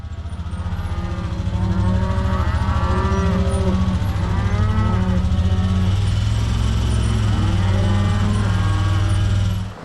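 Several heifers mooing and bellowing in overlapping calls, loud and fairly near, over a steady low background rumble.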